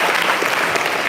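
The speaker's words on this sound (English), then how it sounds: "Give a lot of applause to Afnan" An audience at a career event applauds a participant, dense, loud clapping filling the whole short burst with no talk over it.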